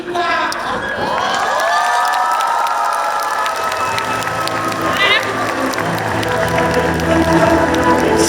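A lively audience at an academic theatre performance of Utuy Tatang S's play Bunga Rumah Makan bursts into loud, sustained cheering and shouting mixed with clapping, with voices and whoops rising over a continuous crowd roar.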